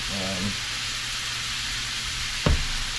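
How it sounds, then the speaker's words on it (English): An oxtail pan sizzles steadily while it is deglazed with aromatics, carrots and onions, a close hissing bed with a faint hum, broken by one sharp clank of a utensil near the end. "So I'm deglazing with some aromatics and some carrots and onions and stuff"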